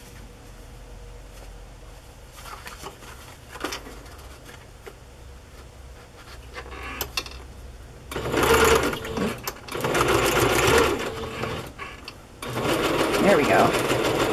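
A sewing machine stitches trim onto vintage fabric in a few short, buzzing bursts, with a person talking quietly before and between the runs.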